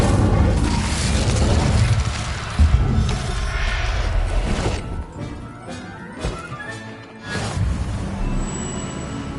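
Incendio fire spell cast in Hogwarts Legacy, loud booming crashes and fiery bursts from the video game, with several heavy impacts rolling together, a few sharp hits and brief quieter gaps.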